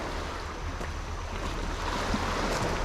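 Ocean waves wash steadily onto a beach on Koh Chang, a broad, continuous hiss of surf with a gently swelling rush, mixed with some wind.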